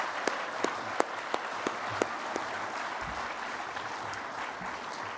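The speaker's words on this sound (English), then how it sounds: "Could we give them one more round of applause?" Audience applause at an awards ceremony fills the room, with a few sharp, distinct claps standing out near the start before it settles into a steady, moderate wash.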